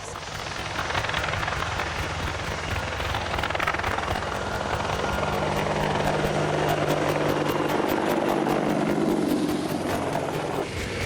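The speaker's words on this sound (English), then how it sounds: "It's the first time the Longbow Apache has flown at Farnborough" Boeing AH-64D Longbow Apache attack helicopter flying at the Farnborough air show, a loud continuous rotor thrum and turbine roar with rapid blade chop, its pitch sweeping as it passes nearby.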